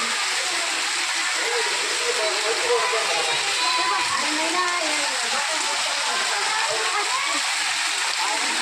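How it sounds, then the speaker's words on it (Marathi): Steady, dense hiss of heavy rain pouring down, loud and continuous, with faint voices underneath. "मित्रांनो किती जोरात पाऊस चालू आहे"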